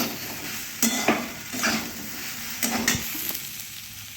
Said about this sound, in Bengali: এখানে সোয়াবিনগুলো ভেজে নিচ্ছি, পটলের সঙ্গে দেব।